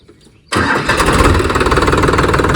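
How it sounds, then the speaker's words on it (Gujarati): A Sonalika tractor engine cranks and catches after a quiet half second, then settles into a loud, steady diesel chug that runs to the end with no talking. "ટ્રેક્ટર"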